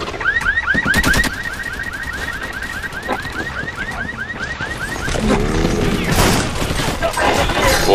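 Gunfire in the video game Battle: Los Angeles: a few sharp, loud shots burst early, then a repeating wailing alarm-like tone and rumbling effects follow beneath faint voices.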